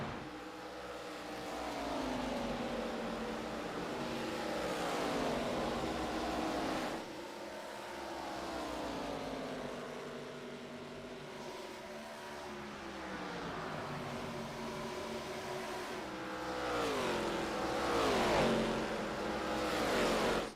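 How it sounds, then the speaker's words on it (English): Chevy, Miata and Ford race cars running at Atlanta, their engines droning and rising and falling in pitch as they rev and shift, heard at moderate distance without talk. "So we got a Chevy, a Miata, and a Ford running."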